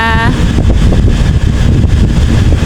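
Steady wind buffets an outdoor microphone in loud, continuous rumbling gusts that fill the whole stretch, with a brief tonal voice or sound at the very start.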